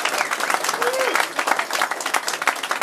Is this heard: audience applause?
yes